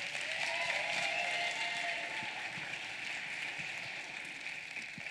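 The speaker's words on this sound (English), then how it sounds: "So would you give her a round of applause?" A congregation applauds during a church service, a soft, even wash of clapping that carries on steadily for five seconds, heard from some distance with no talk over it.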